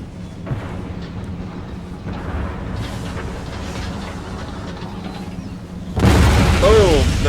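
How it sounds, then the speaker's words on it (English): Artillery cannon fire in the video game Empire Total War, with 24-pound shells striking a wooden fort wall: a steady battle rumble, then a sudden loud booming blast near the end. "Boom! There goes the artillery."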